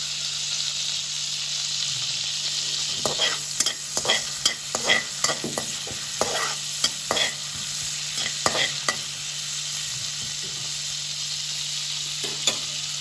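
Mustard seeds and fennel seeds fry in melted margarine in a pan, sizzling steadily with a run of sharp crackles and pops as the seeds hit the fat and are stirred.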